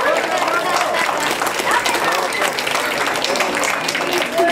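Dense, loud audience applause fills the space for a magician's act at a live show, steady clapping and crowd noise running continuously throughout with no pause.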